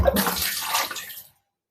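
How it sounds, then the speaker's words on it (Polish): Water gushes and splashes out of an aquarium pipe prefilter housing in a single short pour that stops abruptly, leaving silence. "Wodę wylewam."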